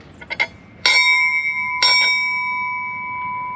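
Two clear strikes of a ship's bell at a US Navy retirement ceremony ring out close together, with the second left to sustain and slowly fade, after a few soft knocks at the start.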